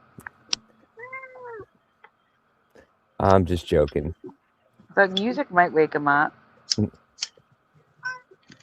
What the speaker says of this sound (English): Is that your kitty